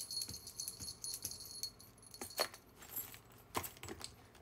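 A jingling keychain charm hanging from trousers gives off repeated light metallic jangles and clinks, close and fairly quiet, in irregular bursts as the wearer moves.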